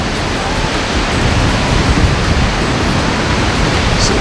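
Waterfall on the Mist Trail in Yosemite roars loud and close, a dense, unbroken rush of falling water that fills the whole clip with no talking.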